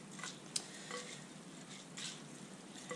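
A homemade bird feeder mixture is stirred in a bowl, soft wet swishing strokes repeating every second or so with one sharp clink of a spoon against the side, close but quiet, without talking.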